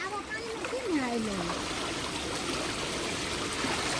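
Water streams and trickles continuously nearby from a tank after monsoon rain in a village, with a few brief whistling tones early on over the steady flow.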